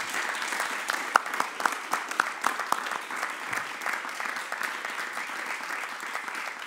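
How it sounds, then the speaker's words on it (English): Audience applause at a fireside chat talk fills the room steadily, many hands clapping at moderate distance with a few sharper claps standing out, sustained throughout. "Let's give a warm round of applause."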